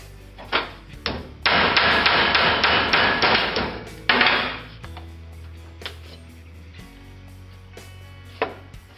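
Hammer blows knock a rubber tread plate off a steel brace, a fast flurry of loud metallic strikes followed by a few scattered, lighter taps, close and clear with no speech.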